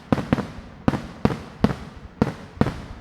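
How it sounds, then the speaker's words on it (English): Fireworks going off in a quick irregular series of about eight sharp bangs, some in close pairs, loud and near with no voices over them. "Fireworks!"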